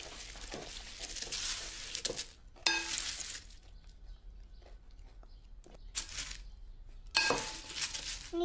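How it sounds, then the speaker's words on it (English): A mixture for making flowers is stirred in a dish in bursts of scraping and clinking, separated by quiet gaps, close and moderately loud with no speech. "I need a good stir now"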